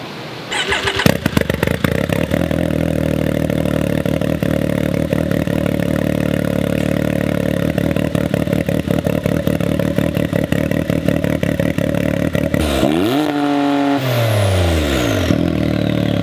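An off-road vehicle engine cranks and fires after a new exhaust and turbo clamp are installed, then idles loudly and steadily up close before revving and winding down near the end.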